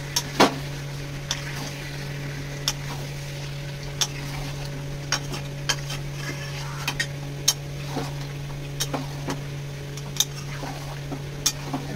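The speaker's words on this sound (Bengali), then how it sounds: "এবার এটা ভালো করে মশলার সাথে মিশিয়ে দেবো।" Fried potatoes are stirred into curry spices in a pan for chicken curry, giving sharp intermittent spoon knocks and scrapes every second or so over a low steady hum and faint sizzle, with no talking.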